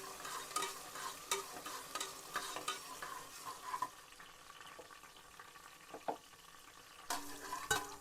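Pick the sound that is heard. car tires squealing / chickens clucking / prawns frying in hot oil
prawns frying in hot oil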